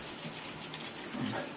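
Very hot water runs from a shower, splashing onto a rust-stained shower surface with a steady, broadband hiss that stays loud and even throughout.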